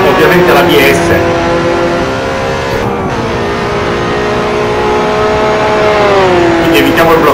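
A Mini racing car in Assetto Corsa, driven without ABS, revs its engine steadily and loudly, the engine note rising and falling as the car accelerates and brakes through the corners.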